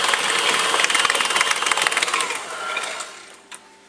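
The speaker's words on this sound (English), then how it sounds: "Beat on a high speed until it's all mixed and light and fluffy" An electric hand mixer beating cheesecake filling at high speed, a loud, close, whirring drone with rapid rattling pulses that tapers off and stops near the end.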